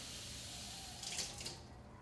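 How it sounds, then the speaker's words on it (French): One and a half cups of water poured into a pot of rice for cooking, a brief soft splashing pour that swells midway then fades, quiet and alone. "Puis, une tasse et demie d'eau."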